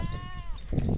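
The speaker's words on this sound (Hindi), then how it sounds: "ये है काजल बकरी।" A Beetal goat, a female of the Amritsari Nagra line, gives a short nearby bleat with a wavering tonal cry, followed by some rustling livestock noise.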